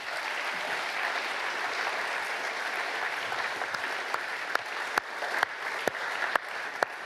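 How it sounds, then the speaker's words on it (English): Audience applause at a charity gala for rhinos, steady dense clapping from a large crowd filling the room, with a few sharper individual claps standing out near the end. "please give yourselves a massive round of applause"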